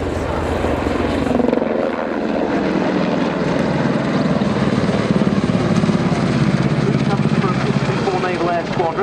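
A Tucano turboprop trainer flies a display at RAF Waddington, its propeller drone loud and steady with a slow pitch shift as it passes, while a commentator talks over it.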